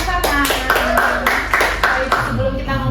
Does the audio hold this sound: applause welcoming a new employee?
yes